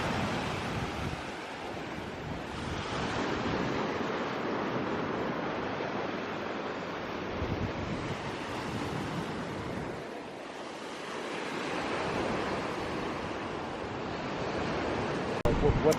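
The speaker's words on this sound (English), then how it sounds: "Show them the waves rolling" Ocean waves roll and break on a Gulf Coast beach in broad washes of surf, swelling and receding in slow cycles under gusty wind buffeting the microphone, with no speech.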